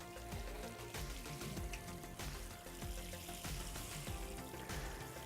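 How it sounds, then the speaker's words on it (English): Watering can pouring water onto soil around a newly planted apple tree, a steady dense splashing and trickling that runs without a break, close and moderately quiet. "I am going to water this about 3 times total with this watering can to make sure the soil is"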